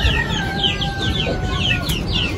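Aseel rooster and hen clucking and squawking close by, with short, sharp scuffling calls repeating over a steady background hum of a poultry yard, no talk.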